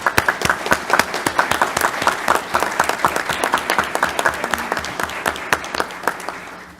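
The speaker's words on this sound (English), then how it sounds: "let's give them another round of applause" Applause at a town select board meeting for police officers just promoted and sworn in: a room full of people clapping steadily, loud and dense, fading out at the end.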